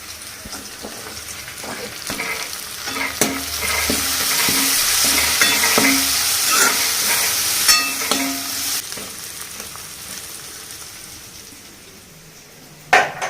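Mint leaves frying with onions in a pan for an egg pulusu, a steady loud sizzle with scattered clinks and stirring scrapes of a spoon, fading toward the end.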